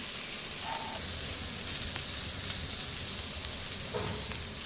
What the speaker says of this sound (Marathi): कांद्यामध्येच आता आपण टोमॅटो भाजून घेऊया